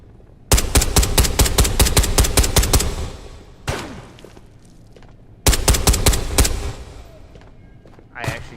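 Automatic gunfire in the VR shooter Ghosts of Tabor comes in two close, loud bursts of rapid shots, split by a single heavy crack and a quiet gap, with a faint thud near the end.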